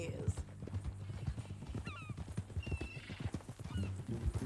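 In Red Dead Redemption 2, a horse's hooves clip-clop in a quick, uneven rhythm, with a few sharp whinnies cutting through. Voices talk over the hoofbeats.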